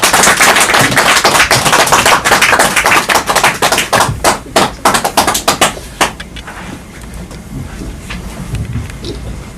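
An audience at a Korean political press conference claps in welcome, a loud, dense burst of applause that thins into scattered claps and fades out after about six seconds, leaving quiet room noise.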